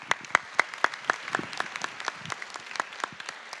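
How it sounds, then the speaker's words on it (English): A small lunch symposium audience gives its panelists a round of applause. The claps are sparse and distinct, loud at first and then thinning into scattered individual claps in a quiet room. "Thank you so kindly for our panelists, a big round of applause"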